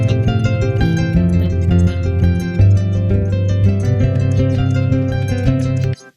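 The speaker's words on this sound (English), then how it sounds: "So you heard that bass line, that dum dum bum ba dum ba dum." A harp plucks a low, repeating bass line with higher notes ringing above, steady and close, stopping abruptly near the end; no voices.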